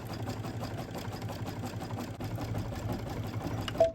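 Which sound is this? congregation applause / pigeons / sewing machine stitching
sewing machine stitching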